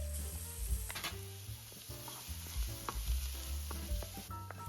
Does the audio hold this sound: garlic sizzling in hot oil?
yes